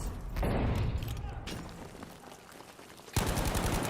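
A grenade blast and gunfire in Battlefield V, with a heavy boom and a rumbling burst followed by rapid rattling shots near the end, faint and without talk.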